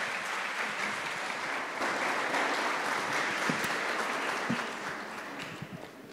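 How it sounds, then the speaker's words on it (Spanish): An audience at a legal conference of the Colombian Institute of Procedural Law gives a speaker a welcoming round of applause, steady and moderately loud, thinning out with a few scattered claps at the end. "Recibamos al doctor con un fuerte aplauso."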